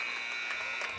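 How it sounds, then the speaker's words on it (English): A buzzer sounds in a gymnasium at a 4A girls varsity basketball championship between Gravette and Farmington, a steady loud tone held for about a second over crowd noise. "the buzzer is going to sound there"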